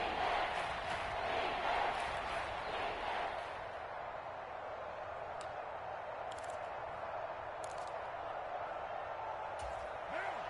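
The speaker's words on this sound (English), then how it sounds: "the crowd getting into it as we come up on a big 3rd down" A football stadium crowd roars during a game as a big third down approaches, a loud, dense wash of cheering that surges early and then settles into a sustained, distant din.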